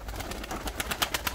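Pigeons coo softly inside a pigeon coop, a brief, faint burst of low throaty calls with a light flutter of rhythmic pulses toward the end.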